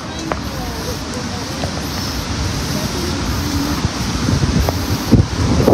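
Steady wind blowing outdoors, buffeting the microphone with a constant low rumble and rustle that grows slightly stronger toward the end.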